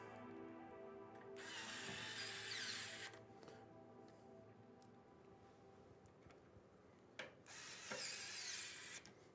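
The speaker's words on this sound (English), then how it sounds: "Okay, so we got our getting our fan screws in" A power screwdriver whirs in two short bursts while driving fan screws during a PC build with a DeepCool Morpheus case, close and fairly loud, with small clicks and handling noise between the runs.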